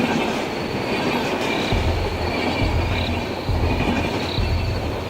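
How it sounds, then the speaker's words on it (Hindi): A train running along its rail line at night, a dense, loud roar of wheels and carriages with rhythmic low thumps and faint high squeal riding over it. "ट्रेन अंधेरी रात में अपनी रेल लाइन पर अपनी मंजिल की ओर दौड़ रही है।"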